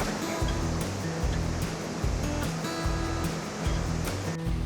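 Rushing water pours steadily at Mae Ya waterfall in Thailand, a constant broad roar of moderate loudness with no talking.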